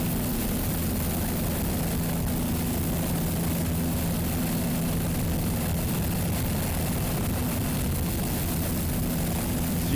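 A powerboat with twin Mercury 525 inboard engines runs in rough water off Fort Lauderdale Beach, giving a loud, steady low engine roar with wind and water rush throughout.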